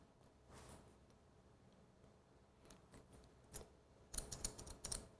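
Scissors cutting hair during a precision haircut at a 45-degree angle in a salon: faint, soft snips, sparse at first and then a quick cluster of crisp cuts near the end, with low room noise.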